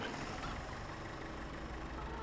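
An old tractor engine idles at a farm, a low continuous rumble holding steady and fairly quiet throughout, with no voices over it.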